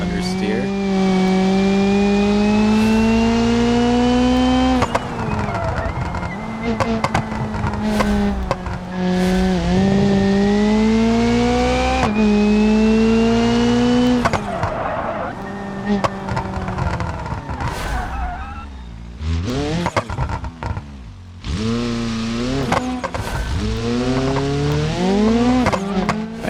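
A car in BeamNG revs hard through corners, its engine note rising and dropping as the throttle is fed in and out, with tire squeal and a brief dip near the end, under a steady commentary voice.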